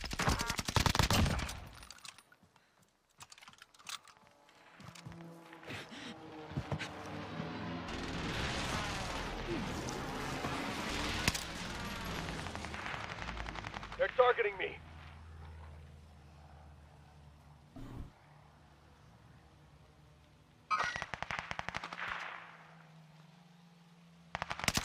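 Bursts of automatic gunfire from the video game Warzone: Caldera, several rapid volleys and single shots, some close and loud, others more distant, with a sustained heavy exchange in the middle and brief pauses between.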